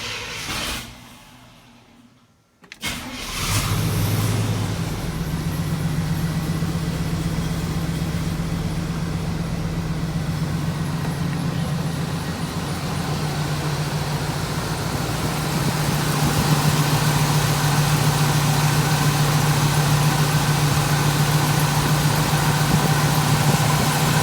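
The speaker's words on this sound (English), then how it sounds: "We're gonna do a fire up and see if we rebuilt it correctly." A GM TBI engine with a freshly rebuilt throttle body cranks briefly after a short silence, catches and settles into a steady, close idle that holds evenly with a low constant drone throughout.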